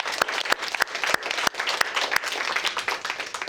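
An audience at a hair-cutting seminar gives a round of applause: dense, sustained clapping with sharp individual claps standing out, close and fairly loud throughout.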